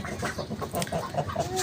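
A main breeder rooster in a backyard poultry setup gives soft, low clucking calls in a short run of rhythmic pulses, faint and close.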